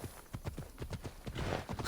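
Horse hooves clip-clop in a steady galloping rhythm in Assassin's Creed Odyssey, close and fairly loud, ending in a sudden louder burst.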